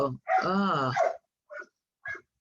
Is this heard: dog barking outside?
yes